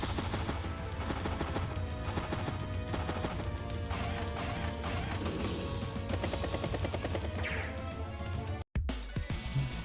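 A battlecopter strikes a tank in Advance Wars: Days of Ruin, a steady chatter of rapid machine-gun fire and clanking hits over rotor-like noise and game music, loud and continuous until a sudden brief cutout near the end.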